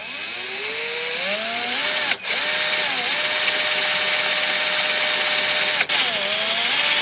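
A power drill bores a hole into a Mercedes-Benz W204 C300 electronic steering lock, a loud, steady whine that shifts pitch as the bit bites, with two brief sharp drops where the trigger is released and squeezed again.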